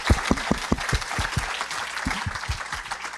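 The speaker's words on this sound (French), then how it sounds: "Alors, on peut les applaudir." Audience applause at the Breizh Awards 2023 ceremony, a crowd clapping steadily throughout with some sharper individual claps standing out close by.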